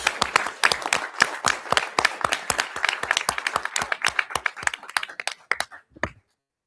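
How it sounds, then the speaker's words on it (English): An audience at a school board meeting applauds student participants with a steady burst of fairly sparse hand clapping that tapers off and stops after about six seconds. "How about another round of applause for all these great participants?"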